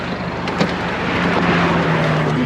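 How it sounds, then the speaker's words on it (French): Steady engine and road noise from inside a tall 4x4 truck with smooth tyres, a loud, even rumble with broadband rush and no talking. "on monte dans un 4x4 qui fait 3 mètres de haut"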